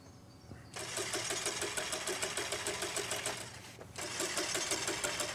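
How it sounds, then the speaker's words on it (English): A car engine in the video game The Quarry cranks and fails to catch, sending out a fast rhythmic whirring churn that breaks off briefly and then starts again, fairly faint overall. "I think there's something wrong with the engine, Mr. H."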